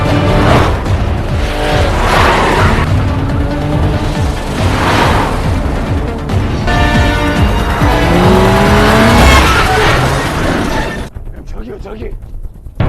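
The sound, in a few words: car chase with tire squeals in a film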